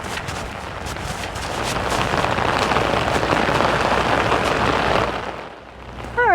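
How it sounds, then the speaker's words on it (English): Steady rain falls in a dense, hissing wash that holds for most of the stretch, then thins and eases off near the end as it slows down. "Oh, the rain's slowing down."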